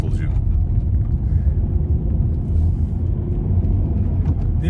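An Alfa Romeo 147 engine runs while driving, a steady low rumble with road noise, heard from inside the car.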